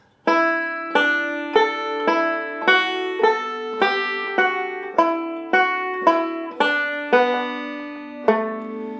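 A banjo plays a phrase of the tune Arkansas Traveler in melodic style, a steady run of about a dozen clear plucked notes, close and alone, ringing out and decaying after each pluck.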